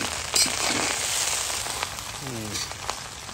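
Fried rice with cashews and raisins sizzling and being stirred in a pan, a steady hiss of frying with occasional scraping and clicking of a spoon against the metal, close and continuous.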